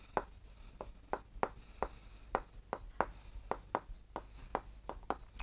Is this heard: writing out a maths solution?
yes